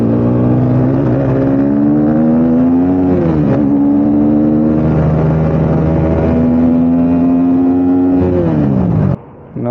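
A KTM RC 390 motorcycle engine revs loudly and steadily nearby, its pitch rising and falling across several throttle swells before cutting off abruptly at the end.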